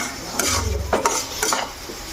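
Carrot halwa cooking in milk is stirred in a pan, with soft scraping strokes and light clinks of a spoon against the metal over a faint sizzle.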